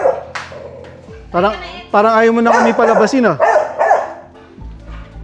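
Small dog barking and yipping in sharp bursts close by, with a staff member nearby preparing a leash to bring it inside; people talk over and between the barks.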